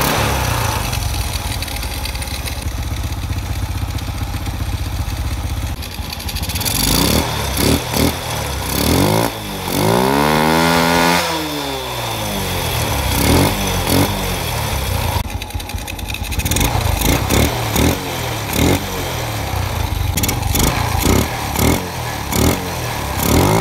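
A SYM Bonus X motorcycle with a newly fitted XRM 110 carburetor starts and runs, its mid-pitched engine idling and then revving up and down in several swells before settling, close and loud throughout with no talk.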